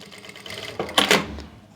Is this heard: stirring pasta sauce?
no